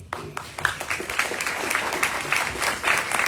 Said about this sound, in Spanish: Un aplauso para los estudiantes.